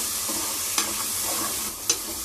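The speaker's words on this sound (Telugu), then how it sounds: "ఇలా కలుపుకుంటూ దూరంగా వేయించుకోవాలి।" Sliced onions sizzling steadily in hot oil for egg biryani, with a couple of sharp scraping strokes as a spoon stirs them through the pan.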